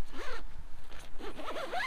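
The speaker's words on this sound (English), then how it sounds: "No catching on the zips." A zip on a Terra Nova Pioneer 2 tent is pulled in several quick, rasping strokes at close range, with short pauses between the pulls and no voice over it.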